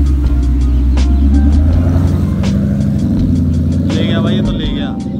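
A Ford Mustang GT engine rumbles loud and close while the car drives slowly, a steady deep roar that eases off near the end, with a voice talking over it.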